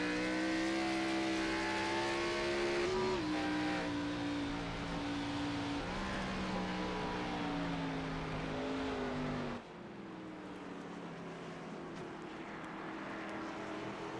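A NASCAR race car engine in a sim racing game at Sonoma Raceway roars steadily at high revs, rising and shifting pitch through gear changes, then drops abruptly and carries on more quietly, loud and alone without talk.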